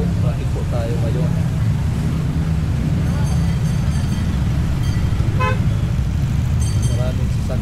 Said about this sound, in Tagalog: Maraming sasakyan, ayan traffic.